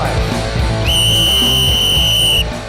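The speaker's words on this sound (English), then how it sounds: "The whistle is blown." A sustained whistle blast of about a second and a half rises above a noisy crowd at a tiger fish tournament weigh-in on Lake Kariba, Zimbabwe, with a low murmur continuing beneath it.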